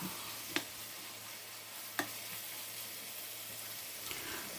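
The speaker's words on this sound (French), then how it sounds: "je vais mettre les oignons parce que la viande hachée ne prend pas beaucoup de temps pour cuire" Minced meat and onions sizzle steadily in a pan, a continuous hiss broken by a couple of sharp clicks of a utensil, with no one speaking.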